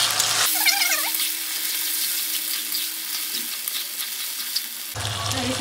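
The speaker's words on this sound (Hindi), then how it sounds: "ये चारों टमाटर भी ऐड कर देंगे। इसको अच्छी तरह से पूरा फ्राई करेंगे।" Onion, ginger, garlic, tomatoes and ground masala frying in a pan, a continuous close sizzle with occasional stirring that runs for several seconds, framed by brief louder noise at the start and end.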